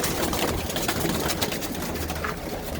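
A pigeon coos softly and repeatedly nearby amid a rustling, noisy background.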